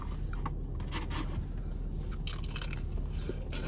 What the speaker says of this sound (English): let me just eat this last rangoon